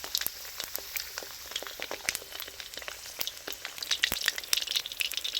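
Sun-dried fish frying in a pan over medium heat, with dense crackling pops and spitting oil that grow busier toward the end, close and steady.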